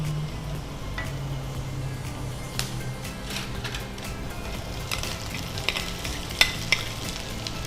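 Onions fry in a pan with a soft, steady sizzle, and a few light clinks and scrapes of stirring stand out toward the end.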